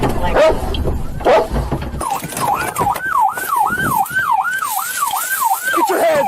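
A police dog barks loudly a couple of times near a cornfield during an arrest, followed by a loud wailing siren sweeping up and down steadily.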